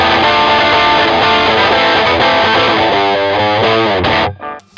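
Electric guitar chords strummed through a blues overdrive pedal with gain all the way up, thick and buzzing with a slight shimmer, ringing loudly before cutting off abruptly near the end.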